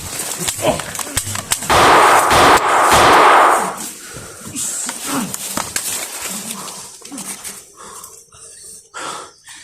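Bursts of loud game gunfire with a heavy noisy blast in the middle, among thuds and breathy sounds, then quieter scattered effects.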